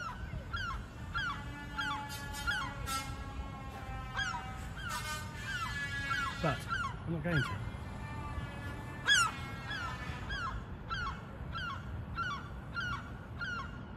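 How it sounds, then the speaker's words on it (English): A seagull attacking a drone lets out repeated loud, harsh calls, from rapid strings of cries to single squawks, close and insistent throughout, with a brief spoken remark in the middle. "The seagull is annoyed with me droning up here and is trying to get me to go away."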